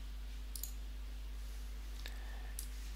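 A computer mouse clicks faintly a few times, sharp isolated ticks over a steady electrical hum, with no voices.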